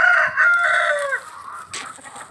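Roosters fighting, several ganging up on one bird: a single loud, close, strained crowing squawk lasting about a second, followed by quieter scuffling noise.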